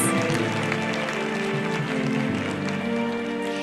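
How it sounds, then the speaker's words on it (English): Audience applause at an international women's peace conference, a dense wash of clapping heard throughout, fairly loud with music or voices underneath. "Let's give all of them a big round of applause."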